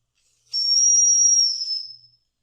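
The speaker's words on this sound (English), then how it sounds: "Love that whistle." A single high, steady steam whistle blast from an 1880s Weeden No. 1 upright steam engine lasting over a second, clear and fairly close, fading out at the end.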